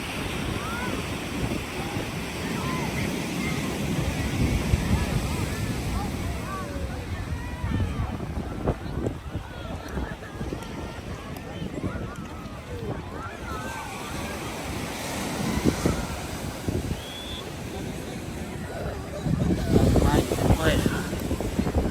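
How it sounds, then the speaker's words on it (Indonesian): Ocean waves and surf roll in at Bondi Beach, Sydney, a steady broad wash with louder surges, mixed with wind buffeting and a crowded beach, with people talking throughout. "Ombaknya luar biasa."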